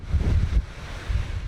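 Heavy mountain wind on Pikes Peak batters the microphone in loud, low gusts that rise, dip briefly, and surge again.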